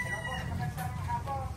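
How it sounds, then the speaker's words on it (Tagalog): Chickens and roosters at a game farm, clucking and crowing close by in a short, steady stretch of farmyard sound. "Ayan po yung mga manok niya Princess Alpia"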